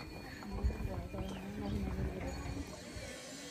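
Horses clip-clopping along a trail in Mustang, Nepal, scattered hoof knocks at close to middle distance beneath people talking.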